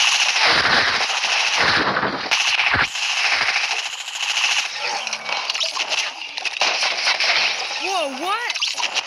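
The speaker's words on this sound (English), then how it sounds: "he literally shot me through the wall. I saw bullets coming through down on the bottom." Rapid gunfire in a Fortnite match, with shots punching through a wall, crackling in dense bursts against steady game noise, followed by a short rising electronic tone.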